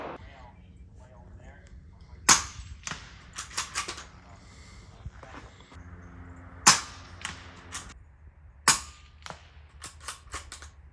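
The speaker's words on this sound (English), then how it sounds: "Our next test is going to be the Silencer Co. Sparrow out on the muzzle of the Bergara." A Bergara BMR Carbon rifle fired with a Silencer Co. Sparrow suppressor: several sharp, clipped cracks spaced seconds apart over a quiet outdoor background, with someone talking between shots.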